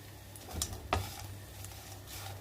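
Dried anchovies frying in a little oil, with a soft, steady sizzle and a couple of brief stirring scrapes, quiet and close.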